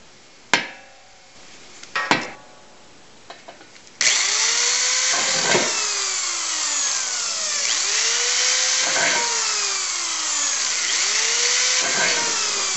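A power drill bores holes into metal for a steam bending chamber, preceded by a few sharp metallic taps. The drill then whines steadily and loudly up close, rising and falling in repeated cycles.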